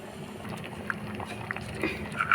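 Pongal simmers in a pot, a low steady bubbling broken by scattered soft pops and plops, heard close up.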